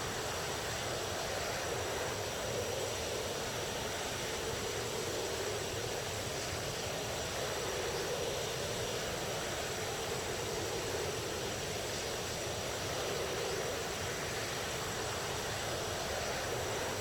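A JF-17 fighter in DCS World sits at takeoff on the runway at Kobuleti, its jet engine giving a steady, constant broadband roar and whine that holds unchanged throughout, with no talk.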